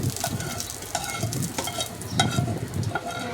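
Four or five dried red chilies frying in a little oil in a pan on the stove, a soft, continuous sizzle with faint stirring scrapes, close and fairly quiet.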